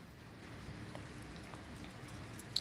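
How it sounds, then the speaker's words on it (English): Steady hiss of heavy summer rain pouring down in a torrential downpour, continuous and fairly faint, with a few sharper drops near the end. "You can probably hear that. It's torrential downpour."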